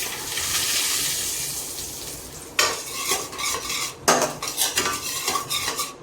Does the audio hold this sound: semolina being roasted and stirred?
yes